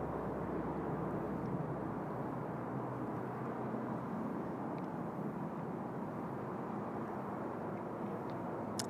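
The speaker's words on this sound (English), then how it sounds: "here comes our Korean Air 777" Korean Air Boeing 777 airliner on the runway at Seoul Incheon Airport, a steady broadband jet engine roar held at even loudness throughout, distant and continuous with no talk.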